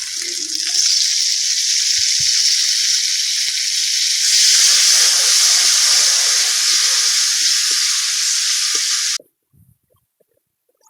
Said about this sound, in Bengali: এবার দিয়ে দেবো টক দই।